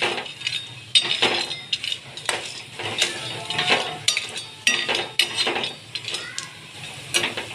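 Vadas pan-roasting until crisp and red, with repeated clinks and scrapes of a utensil against the pan in an irregular rhythm, close and fairly loud, with no talking.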